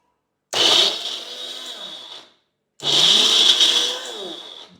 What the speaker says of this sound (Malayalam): മിക്സി ഇത് ജ്യൂസാവും തോന്നുന്നുണ്ട്